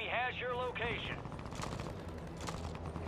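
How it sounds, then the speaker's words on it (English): Rapid automatic gunfire in Call of Duty Warzone on Rebirth Island, a continuous burst of close, loud SMG shots layered over game sounds, with a chirping tone at the start and a voice talking briefly. "Smacking them with bullets"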